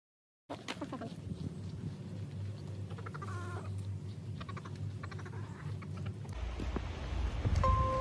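Chickens cluck and a rooster calls at a Shinto shrine grounds, moderately close over a steady outdoor background, with faint scattered bird sounds and a louder rumble near the end.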